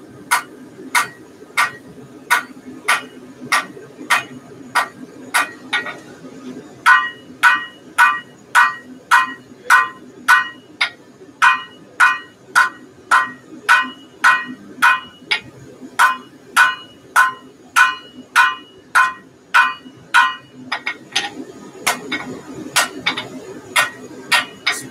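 A hammer rings steadily on hot steel at a forge while hammer eye tongs are shaped, striking dozens of evenly spaced, sharp metallic blows with only brief pauses.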